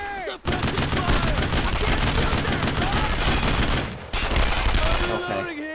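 Sustained, dense gunfire in the WWII shooter Brothers in Arms: Road to Hill 30, as rifles and machine guns rattle continuously and loudly with a brief lull midway, while voices shout orders over the din.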